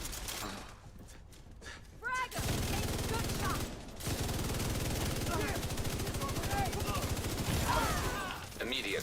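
Rapid automatic gunfire from shooting enemies in a video game, dense sustained bursts filling most of the stretch with brief gaps, loud and close.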